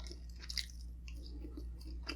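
Close, quiet chewing of tender meat like pulled pork, with soft wet mouth sounds and faint bites over a steady low hum, no talk.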